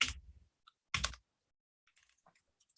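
A computer keyboard gives two quick bursts of typing clicks, close and crisp, followed by faint scattered key taps in an otherwise quiet room.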